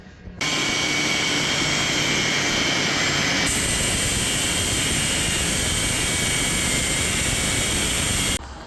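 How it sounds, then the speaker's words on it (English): An angle grinder cuts into a car body panel on a Jaguar XKR race car, a loud, dense, continuous roar running steadily for about eight seconds with one abrupt shift in tone partway through. "we'll get the grinder out and get busy"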